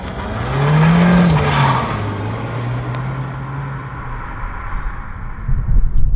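A 2025 VW Passat B9 estate with a 1.5 litre four-cylinder Evo engine drives along, its engine note rising early and then settling into a steady hum under road and wind noise, with rumble building again near the end.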